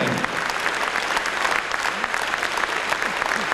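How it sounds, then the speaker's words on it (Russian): A theatre audience applauds steadily and warmly for a finalist of the Kalina Krasnaya song contest in Moscow in 2003, dense clapping that fills the whole stretch without a break. "Аплодисменты."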